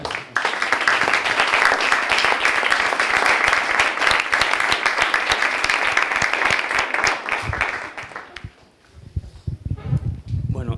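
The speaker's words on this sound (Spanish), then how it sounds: "rogaría un aplauso para todos." A crowd applauds debate participants at a university event: dense, steady clapping lasts about eight seconds, then quickly dies away as a voice starts speaking.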